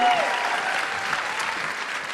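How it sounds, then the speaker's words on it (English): Warm applause from an audience, steady clapping that holds throughout without fading. "Big round of applause for Sukh."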